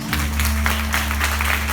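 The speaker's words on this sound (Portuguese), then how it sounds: "Pode aplaudir o Senhor Jesus." A church congregation applauds during a worship service, steady clapping that fills the space without pause, carried over a constant low electrical hum.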